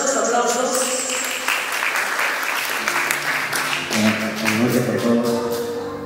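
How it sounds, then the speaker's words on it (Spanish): Guests at an 18th birthday party in Aranjuez, Trujillo clap loudly and steadily, the applause mixed with background music and a few voices murmuring through the room. "Fuerte los aplausos"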